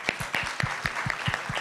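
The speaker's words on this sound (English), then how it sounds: "Clap for yourselves" Conference audience at a university mental health event clapping for themselves, a brief run of distinct claps in a quick, slightly uneven rhythm, fairly close.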